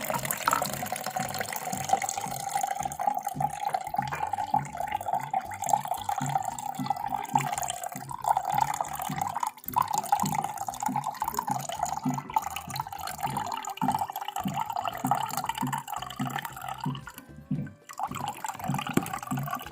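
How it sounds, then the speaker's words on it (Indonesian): Water from a gallon jug is poured into a container for ginger, turmeric and cinnamon infused water, making a steady, continuous splashing and gurgling fill that lasts the whole stretch. "kita isikan air galon"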